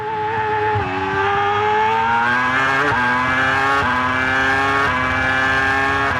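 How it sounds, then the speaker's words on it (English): Race car at speed around the Silverstone circuit, its engine roaring loud and close with a steady, climbing pitch broken by several quick gear changes. No voices are heard. "Down 4 gears, the nose just goes steaming into the corner."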